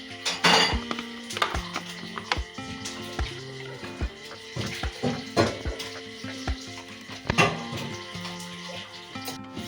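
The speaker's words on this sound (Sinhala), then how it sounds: "අපි දැන් මේක වෙනම භාජනයකට අයින් කර ගන්න ඕනේ" A palm fruit mixture is moved into a separate vessel, with irregular metallic clanks and scrapes of pots and utensils ringing out close by, some sharp knocks standing out among softer shuffling.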